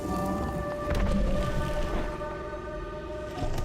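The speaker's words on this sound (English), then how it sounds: "Thunderstorm and rain sounds to help you sleep" Steady thunderstorm and rain ambience from the video game Death Stranding: continuous rainfall hiss with a low rumble swelling briefly near the middle, plus faint sustained tonal hums, with no talking.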